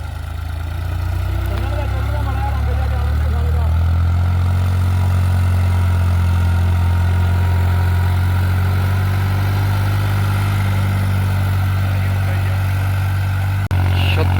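A New Holland 3630 4x4 Super Plus tractor with an external silencer runs with a steady, loud, deep engine rumble that holds unchanged throughout, close by and without pause.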